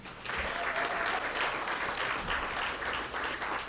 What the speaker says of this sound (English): Round of applause for Josh and his team, Veritas Media Production.